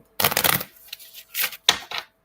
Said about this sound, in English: I'm going to do a proper shuffle. Here we go, riffle shuffle on mic.